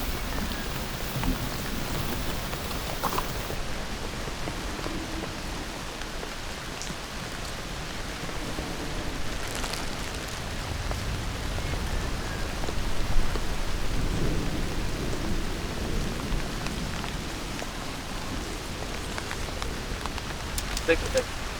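Heavy rain hisses steadily on an outdoor film set while rolls of thunder swell and fade beneath it, a dense continuous wash with occasional louder rumbles.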